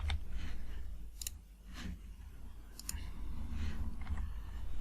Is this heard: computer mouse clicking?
yes